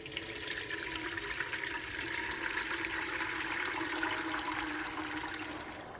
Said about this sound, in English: Now we just pour the grains through the cheesecloth.